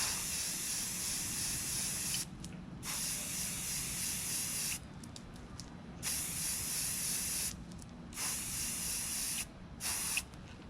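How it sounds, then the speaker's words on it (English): An aerosol spray paint can hisses at a tumbler in several long, steady bursts separated by short pauses, close and even. "That's my spray paint ombre method."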